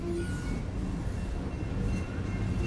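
An Iowa Interstate Railroad train rumbles steadily along the tracks near the Mississippi River, a loud continuous low roar with faint rhythmic clatter and occasional metallic squeals.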